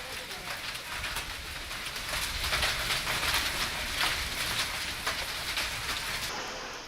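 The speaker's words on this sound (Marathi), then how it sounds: "शहराच्या अनेक भागामध्ये गारांचा पाऊस पडला." Hail and rain pelt down across a city in a dense, continuous patter of drops striking surfaces, swelling slightly toward the middle and staying fairly loud throughout.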